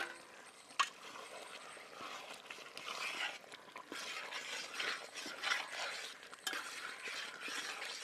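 Beef bone curry being stirred in a pot over a wood-fired stove, with soft scraping and occasional metallic clinks of the spoon against the pot and a quiet sizzle underneath.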